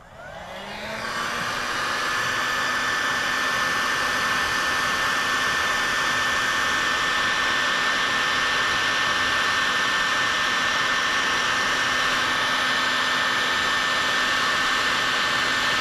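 A heat gun whooshes up within the first second and then holds a loud, steady blowing roar with a constant tone as it shrinks heat shrink tubing over labeled wires, close by and with no talking.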